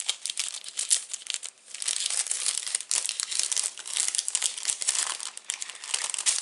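Paper envelope for a handmade card being handled up close, with a steady run of crisp crinkling and rustling that swells and dips over several seconds, no talking.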